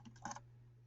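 A few quick keystrokes tap on a computer keyboard during a geometry lesson on circle equations, a short faint burst of clicks over a steady low electrical hum.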